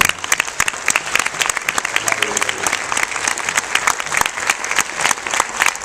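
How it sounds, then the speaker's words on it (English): An audience applauds at a film premiere Q&A. The clapping is dense, sustained and close, with loud sharp individual claps throughout. "there's a lot of amazing people up here today in the audience that really deserve a round of applause"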